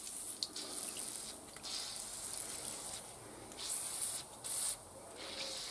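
Degreaser sprayed onto old car parts from a Triumph Spitfire, including the inlet manifold, during an amateur restoration: several short hissing bursts of spray close by, separated by brief pauses, with faint rubbing in between.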